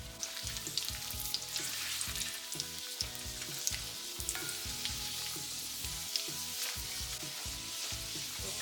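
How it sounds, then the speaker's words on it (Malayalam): Cashews and raisins fry on a low flame, a steady dense sizzle with faint stirring scrapes and no voices, part of cooking a beef biryani. "ലോ ഫ്ലെയിമിലിട്ട് വേണം നമുക്കിത് വറുത്തെടുക്കാൻ"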